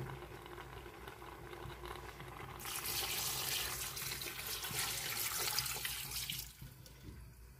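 Water pours steadily into a pot for about four seconds, a loud rushing splash that starts abruptly and then cuts off, with no talking.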